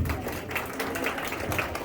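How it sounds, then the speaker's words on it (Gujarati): Applause from an audience at a community celebration in Chicago for Makar Sankranti and Republic Day comes as a brief, even patter of many hands clapping. It is moderately loud and continuous for under two seconds. "એક વાર તમને તાળીઓથી વધાવી લો પ્લીઝ"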